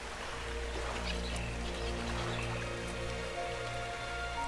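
Steady rain falls in ARK: Survival Evolved on the Valguero map, a dense, even patter with scattered drops over a constant low wash, fairly quiet with no voices.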